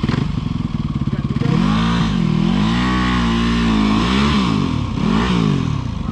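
A KTM 300 XCW two-stroke dirt bike engine revs loud and close on a rutted trail ride, climbing and falling in pitch through several throttle blips with a steady rasping drone.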